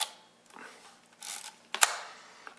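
A few faint mechanical clicks of a Petri Color 35 film camera shutter firing at various speeds, with one sharper snap, separated by brief quiet.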